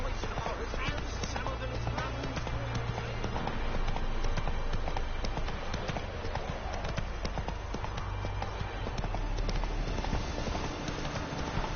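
A horse gallops in The Witcher 3 with rapid, continuous hoofbeats that hold at a steady pace throughout, set against a dense game soundscape.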